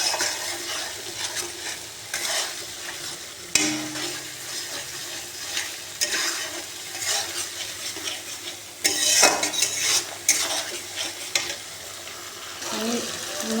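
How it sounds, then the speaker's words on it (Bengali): Ginger, onion and garlic paste stir-fried in a pan over raised gas heat: a steady soft sizzle with repeated spatula scrapes and clinks against the pan, fairly close, with no talk. "এবার এটাকে ভালো করে কষিয়ে নেব"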